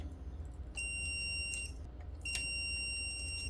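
A continuity tester buzzer sounds in two high, steady electronic tones of about a second each, probing a shorted power connector on a corroded Gigabyte GeForce RTX 4080 16GB Gaming OC graphics card, over a low background hum.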